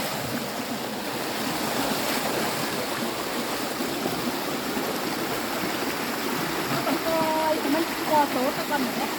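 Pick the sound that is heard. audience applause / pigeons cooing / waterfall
waterfall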